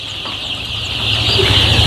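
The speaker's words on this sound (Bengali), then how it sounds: "আমাদের মুরগির যুদ্ধ শুরু হয়ে গেছে মনে হয়" Chickens fighting cluck and squawk close by in a steady, agitated jumble that grows slightly louder toward the end.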